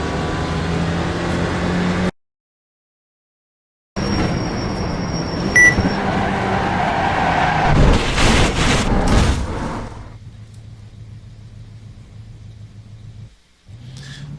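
A race car in the iRacing sim laps the track during tire warm-up, its engine a steady loud drone that swells and rumbles, cuts out briefly, then settles lower toward the end.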